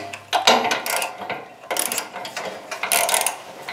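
Ratchet wrench with a 13/16 socket working loose the spark plug on a Champion 4000 generator, giving bursts of close, rapid clicking in uneven strokes with short pauses between.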